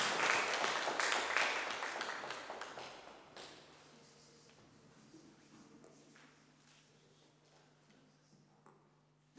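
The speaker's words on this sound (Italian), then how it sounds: "Ancora un applauso." Loud, dense clapping from a theatre audience at the start that gradually thins and fades into scattered claps and room noise.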